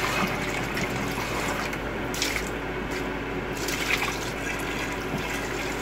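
A crushed emerald ore sample being sieved with water, giving a dense, continuous wash of running and splashing liquid that stays loud and close throughout, with no talking.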